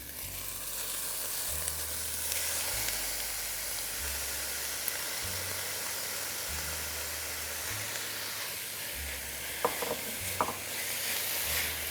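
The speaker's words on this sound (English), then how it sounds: "we're going to add our kale to the onion mixture." Kale sizzles as it goes into an onion mixture in a hot pan, a steady broadband hiss with a low rhythmic hum and a few sharp clicks near the end, no voices.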